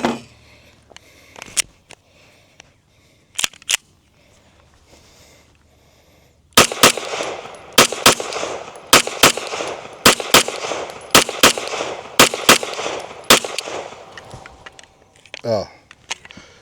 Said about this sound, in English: I'm gonna shoot a few more doubles.